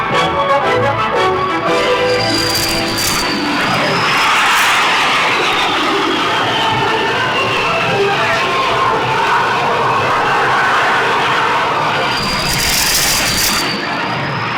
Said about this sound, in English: Sometimes a plane misses the last wire and goes around again.